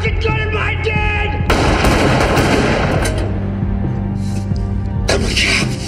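Sustained movie gunfire, bursts of automatic weapon fire and shots crashing loudly throughout a tense one-room standoff scene, dense and continuous with brief shifts in intensity.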